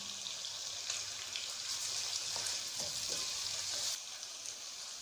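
Chicken frying in a pan after whole garam masala goes in: cardamom, cloves, black peppercorns, bay leaf and cinnamon. A steady, close sizzle with faint stirring scrapes runs throughout, and no one speaks.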